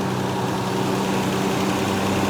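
A Ford Capri 280 Brooklands engine idles steadily and close by with a faint tappet tick from the top of the engine, and there is no talk.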